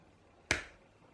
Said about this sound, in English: Oh, I need to clap.